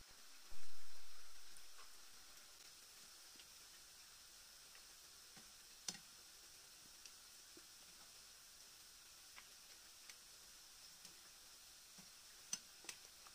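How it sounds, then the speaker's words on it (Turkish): Quiet, steady sizzle of potato and kashar cheese stuffed içli köfte meatballs frying in hot oil, with occasional small pops and crackles over the continuous hiss. "aynı şekilde sürekli çevirerek onları da kızartıyorum"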